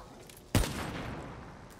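A single sharp burst of gunfire in Call of Duty Zombies, loud and abrupt, trailing into a short fading echo and noise after a quiet start.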